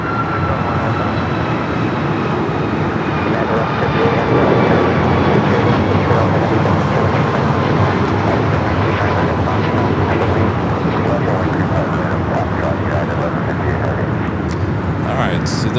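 An American Airlines jet taking off from runway 25 right at LAX, a broad steady engine roar held at constant strength throughout, with radio voices talking over it.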